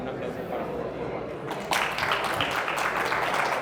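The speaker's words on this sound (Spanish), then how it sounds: "Un aplauso para Arturo, por favor" Audience at an AWS Students Community Day conference starts applauding a speaker partway through, the clapping rising suddenly over a quieter room murmur and continuing steadily to the end.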